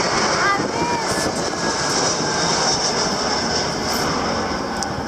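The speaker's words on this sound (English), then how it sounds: "An airplane coming over us." Broad, steady engine roar of an airplane passing overhead, heard from the back of a pickup truck outdoors, loud and continuous with a faint whine and no break throughout.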